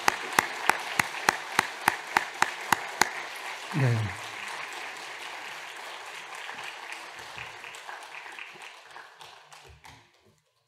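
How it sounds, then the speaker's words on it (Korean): A church congregation at a Christmas service gives a sparse round of applause after a choir's praise song: a dozen slow, evenly spaced claps up close, then fading murmur and a brief spoken word. "박수 많이 치셨지만"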